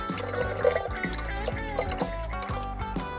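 Rinse water poured and dripping during silver recovery from X-ray films, a close trickle with splashes and a few bright drips over a low rumble.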